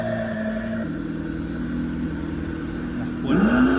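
A licensed toy McLaren P1 car starts up: a steady low hum runs throughout, then near the end a loud electronic engine rev swells and rises in pitch, close and clear with no talking.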